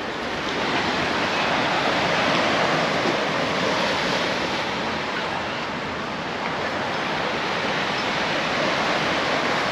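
Surf washing steadily onto the beach at Arroyo de la Miel in Benalmadena, a continuous broadband roar of breaking waves with some wind noise, fairly loud and even throughout, with no voices.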